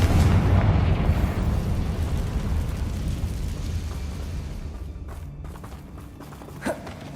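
A loud Confringo blasting spell explodes in Hogwarts Legacy, a heavy booming burst that opens strongly and rolls off into a long rumbling decay, followed by a faint small thud near the end.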